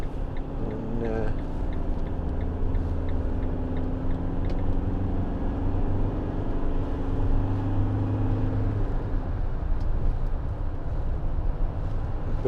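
A 2016 Citroen Relay 2.2 HDi 35 Enterprise L3H2 van driving on the road, its diesel engine droning steadily inside the cabin, with a smooth gear change as the engine note drops partway through, under ongoing conversation.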